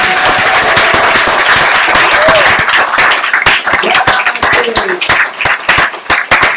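A church congregation applauding for Jesus at a French-language service: dense, loud, sustained clapping from many hands, growing more ragged and rhythmic toward the end, with a voice faintly audible beneath.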